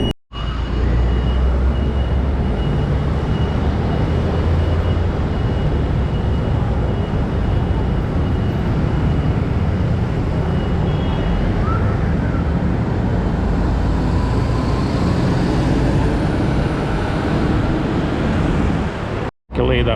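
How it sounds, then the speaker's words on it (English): Heavy bus and truck traffic rumbles past on a busy street at Zhongxiao Fuxing in Taipei, giving a loud, continuous roar of engines and road noise that cuts off briefly near the end. "That bus is gone, the truck is gone"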